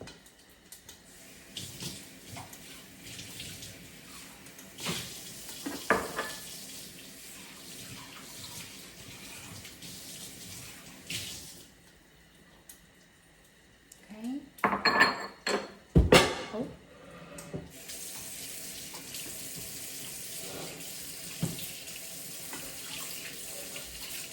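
Water runs from a kitchen tap in bursts while something is rinsed into a bowl, with clinks of dishes and cutlery between the gushes of water.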